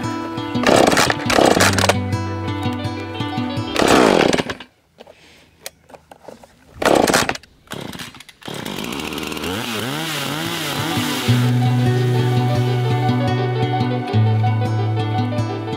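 A chainsaw bucks a felled tree trunk into foot-long firewood chunks. The saw revs in loud bursts, drops back to idle, then settles into a long steady cut.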